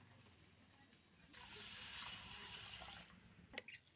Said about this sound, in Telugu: వాటర్తో కడుక్కోవాలి శుభ్రంగా.